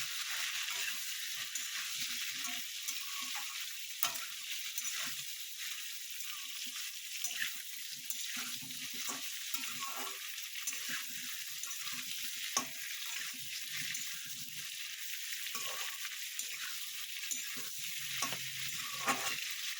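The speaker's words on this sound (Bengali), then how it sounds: "ঝিঙে দিয়ে একটু আমি কষে নেব" Ridge gourd fries in a pan for a vegetable-and-bori dish, a constant close sizzle broken by repeated stirring scrapes and spatula knocks in an irregular rhythm, with no voices.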